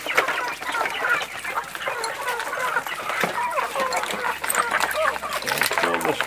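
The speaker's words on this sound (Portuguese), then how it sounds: "Tem muita galinha." Many chickens cluck and chatter in a backyard yard on a small urban farm plot in Cuiabá, Mato Grosso, a busy continuous flock sound with someone talking over it.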